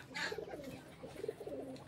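Faint, low pigeon cooing comes from caged pigeons being shown for sale, heard quietly for a couple of seconds.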